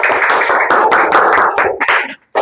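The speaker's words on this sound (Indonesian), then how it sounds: "Tepuk tangan untuk kelompok tablik." Classroom of young pupils claps for a student group, a quick burst of close, rapid applause that fades out abruptly at the end.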